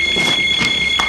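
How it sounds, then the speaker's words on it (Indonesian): A house security alarm sounds a steady high electronic tone, loud and close, over a brief moment with some muffled background noise. "Setelah berbicara dengan Scarlett, alarm berbunyi."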